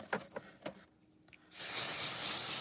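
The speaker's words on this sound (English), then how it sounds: "I'm going to spray the back of these with pixie spray" Aerosol can of low-tack stencil adhesive spray, a few faint taps and clicks, then a steady close hiss as the spray starts and continues to the end.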